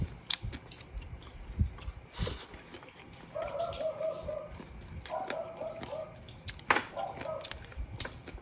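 Crisp, crunchy chewing of crab close to the mic, with sharp cracks scattered throughout and a faint voice murmuring in the background.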